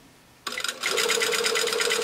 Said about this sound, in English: we're going to sew in right here at the underarm seam.